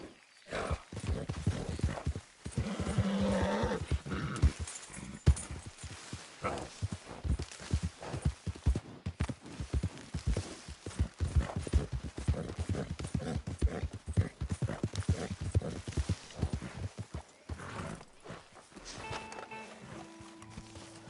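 Horse hooves clip-clop steadily through Red Dead Redemption 2, a dense rhythmic pattern of strikes running nearly the whole time at moderate loudness, with brief snorts or whinny-like sounds early on.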